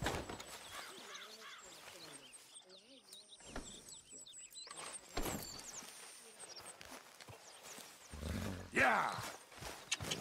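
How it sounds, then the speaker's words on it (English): Horse hooves clop on the ground in the video game Red Dead Redemption 2, with irregular footfalls, faint bird chirps and voices talking over them. "get that horse out of here"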